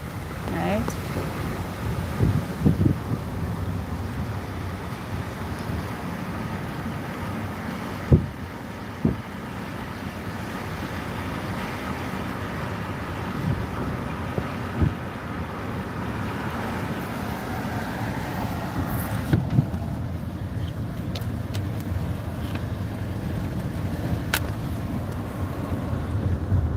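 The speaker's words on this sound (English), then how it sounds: "you should be able to hear that wind since we've put the window down" Wind rushing past an open car window along an ocean waterfront, a steady, loud buffeting roar with a few brief knocks and bumps, and no voices.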